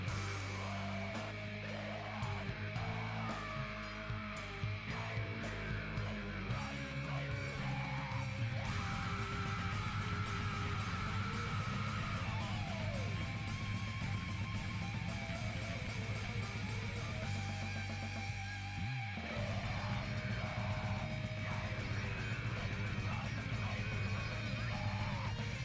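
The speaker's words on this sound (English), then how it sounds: "It's just like screamo metal. You can barely hear the vocals though." Screamo metal song from the Danganronpa 2 video game plays throughout, with dense distorted guitars, pounding drums and buried shouted vocals, steady and fairly quiet.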